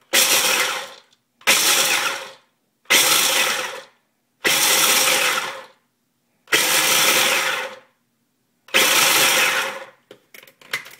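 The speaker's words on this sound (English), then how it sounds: "I'm just going to pulse it to grind it a little finer than this." A small food chopper pulses six times in short bursts of about one to two seconds, grinding muesli finer; loud, close whirring with brief silent gaps between pulses and a few faint clicks at the end.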